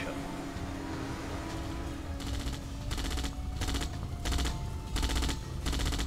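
Bursts of rapid gunfire from the Red Alert 2: Yuri's Revenge strategy game, several short automatic volleys repeating at regular intervals over a low steady engine-like drone, fairly quiet overall.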